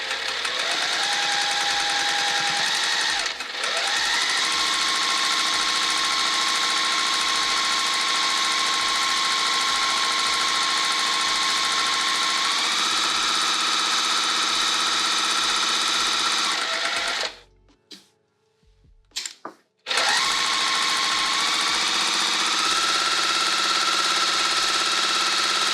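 A sewing machine stitching a pillowcase runs in long, steady, loud whirring bursts, breaking off briefly near the start and again for a few seconds toward the end before resuming for back stitching.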